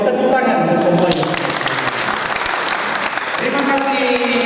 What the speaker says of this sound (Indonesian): Boleh Bapak Ibu tepuk tangan semuanya.